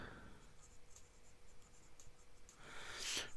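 An Urushi Studio India Xiphos R fountain pen nib inked with Diamine Poppy Red writing on paper, giving a quiet, steady scratch that swells into a louder, brighter scrape near the end.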